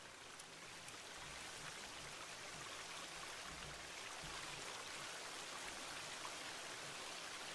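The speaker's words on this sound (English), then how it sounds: "Oh, come on, that's gotta be fresh running water." Running water from a stream in The Forest video game rushes as a steady, even wash of noise that stays constant and moderately faint throughout, with no voices.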